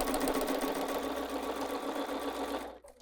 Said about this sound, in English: let me just go sew that. I'll sew that from this side.